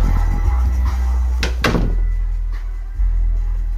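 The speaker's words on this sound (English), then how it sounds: "It's actually shaking my door a little bit." A room door rattles and thunks under heavy bass from a JL Audio subwoofer in a speaker backpack, with a couple of sharp knocks over a constant low rumble and no talking.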